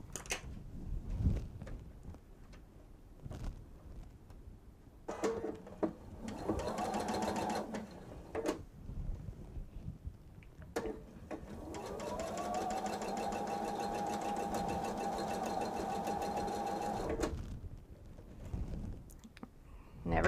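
Sewing machine stitching a straight seam in fabric from the side with the diamond triangles, for a bench pillow; several short whirring runs give way to a long, steady stretch of stitching, with fabric handling between.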